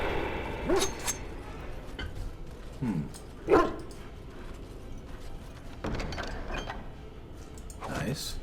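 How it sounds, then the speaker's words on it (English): Puppies bark and yip in short, scattered bursts inside the Redcliffe Castle level of the video game Dragon Age Origins, moderately near, over a quiet game ambience with occasional mechanical noises. "And we hear puppies."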